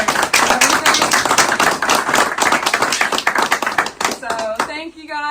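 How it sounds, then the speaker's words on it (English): Brief round of applause at the close of a fishing seminar, a dense patter of claps under overlapping talk that thins out as voices take over. "We're just going to give him a round of applause for everything."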